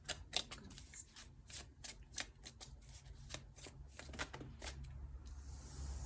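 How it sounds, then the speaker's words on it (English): Tarot cards are shuffled by hand in a quiet room, a rapid series of soft, crisp riffling snaps and taps in quick bursts, faint and close, with no voices. "I have to shuffle to get the cards"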